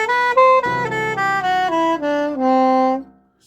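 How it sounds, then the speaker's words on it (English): Lydian mode scale in concert C played on a melodic instrument as a run of distinct stepwise notes, ending on a longer held tone that fades out, close and clear with no talking. "which is Lydian. Sounds like this."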